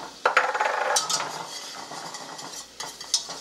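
Flour being stirred into melted butter in a hot pan: a utensil scrapes and clinks against the metal in short bursts over a soft sizzle, close and fairly loud, with no talking.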